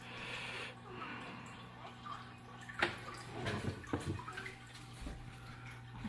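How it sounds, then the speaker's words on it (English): A sand bubbler at the bottom of a custom-built home aquarium gives off a soft, steady bubbling and gurgling of water with light ticking drips, running low and continuous throughout. "It's got the sand bubbler in the bottom right there. I'll turn it on. Bubbles like a spring"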